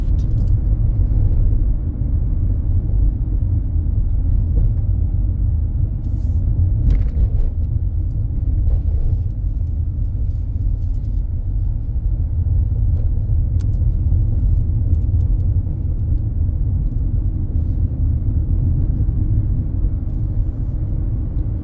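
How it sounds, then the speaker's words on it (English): A car driving downhill on a road in St. James, Barbados, giving a loud, steady engine and road rumble that holds throughout with no break. "So we are literally driving downhill"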